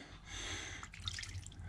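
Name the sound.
water flowing into new cattle drinking trough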